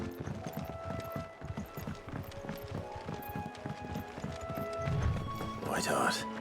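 A chocobo runs in Final Fantasy XVI, its rapid rhythmic clip-clop footfalls steady and close, ending in a loud squawk-like cry, with a voice talking over the steps.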